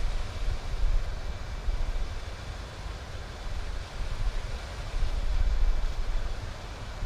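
An airliner climbing out after takeoff in Microsoft Flight Simulator on a Saigon to Phuket flight, its jet engines a steady, broad roar with a low rumble, constant and unbroken, with no talk over it.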